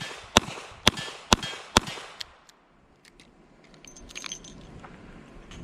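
A Chiappa Rhino DS40 six-shot revolver fitted with a Vortex Viper red dot fires four sharp, loud shots in steady succession. Each shot has a quick decay, and then quiet outdoor ambience with faint scattered ticks follows.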